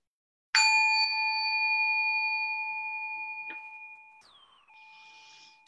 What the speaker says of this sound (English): Thich Nhat Hanh calls it the mindfulness bell, the call to remember to ground yourself and to come back to the self that knows